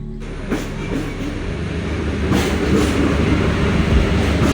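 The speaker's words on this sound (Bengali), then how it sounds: "এই যে আরও একটি ট্রেন এসে ঢুকলো স্টেশনে" A train rolls loudly into a railway station, its wheels clattering in a steady rhythmic rumble that builds slightly and then cuts off.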